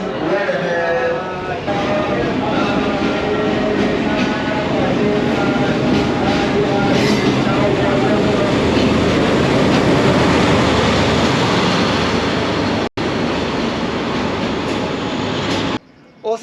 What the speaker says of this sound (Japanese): 列車出発進行します。